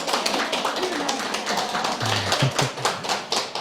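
A gathering of monks at a Buddhist temple Dharma service claps to welcome newly arrived guests. Brisk, dense clapping runs for several seconds, with a voice speaking briefly over it.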